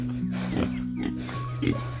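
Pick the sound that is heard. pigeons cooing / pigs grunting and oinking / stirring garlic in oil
pigs grunting and oinking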